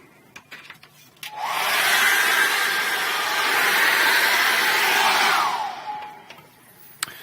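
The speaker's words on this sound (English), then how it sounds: "I'm going to dry this off with a hairdryer." A hair dryer blows a steady, loud whoosh at close range for several seconds while drying an acrylic painting, then winds down and stops.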